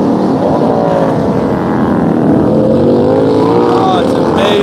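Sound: racing motorcycle passing at a qualifying run

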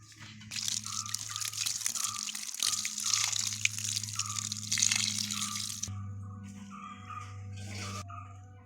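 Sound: watering a newly potted Hemigraphis plant

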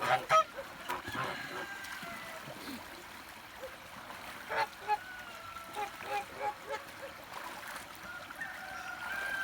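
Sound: geese honking

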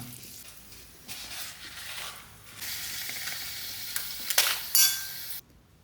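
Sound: frying sun-dried kondattam chillies in a pan

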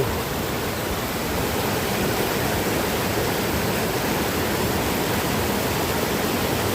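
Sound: Mae Surin waterfall in Mae Hong Son, Thailand

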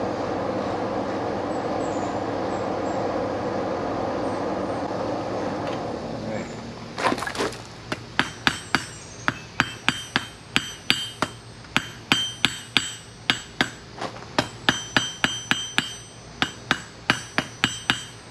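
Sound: blacksmith hammering while forging an S hook

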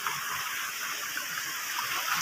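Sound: water flowing

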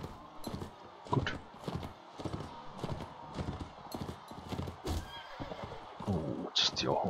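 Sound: horse neighing and hooves in video game Mount & Blade Warband

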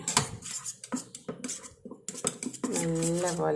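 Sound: spoon mixing curd in a bowl

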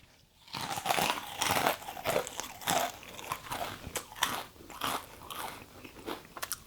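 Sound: crunching a Ghost Pepper roller coaster snack

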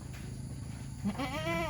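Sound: goat on a farm

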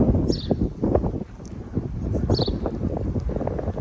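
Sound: wind blowing outdoors

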